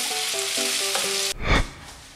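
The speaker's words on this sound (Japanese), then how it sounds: "あとはしんなりするまで炒めれば完成です。" Potatoes stir-frying in a pan, a dense close hiss with faint tonal clinks that cuts off abruptly, followed by a brief soft thump; no voices.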